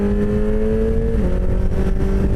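A truck rushes past close beside a motorcycle on the road, a loud steady engine roar with a falling pitch shift midway as it goes by, no talking.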